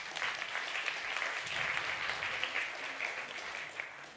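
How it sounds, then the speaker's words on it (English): A crowd applauds steadily, a dense wash of clapping that holds at an even level throughout without any voices. "applause for that"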